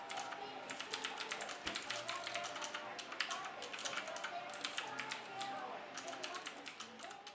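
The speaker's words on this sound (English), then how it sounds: "this one has Cherry MX Blue switches. So you'll hear in a moment that this is far more clicky than the Asus keyboard" Typing on a Kinesis ergonomic keyboard with clicky Cherry MX Blue switches: a steady, fast stream of sharp, close key clicks running continuously, with no one speaking over it.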